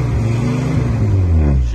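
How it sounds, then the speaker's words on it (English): A 1967 Morris Minor 1000 engine idles with a steady low rumble and a rough, puffing exhaust leak pulsing through it, close and fairly loud. "That's an exhaust blow."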